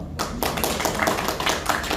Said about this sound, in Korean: 박수로 우리 해주셨습니다